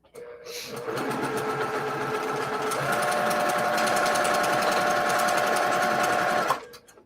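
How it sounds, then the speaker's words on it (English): A sewing machine stitches a quilt block along a marked line, running in a close, steady whir for several seconds before stopping. "I'm going to sew on the line again."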